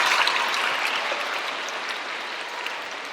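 An audience at a youth orchestra concert applauds in a dense, even wash of clapping that starts strong and slowly fades a little.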